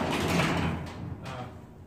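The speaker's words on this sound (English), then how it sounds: "Let me crack the garage door." A garage door at a lawn care shop grinds open with a mechanical, sliding rumble, fairly loud at first and then easing slightly as the motion continues.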